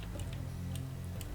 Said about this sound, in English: this time it actually gives you an audible clicking noise